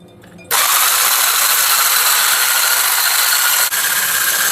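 An electric mixer starts up abruptly and then whirs at a loud, constant high pitch while whipping egg whites with sugar for a homemade cream and chocolate cake, steady and close with a brief dip near the end.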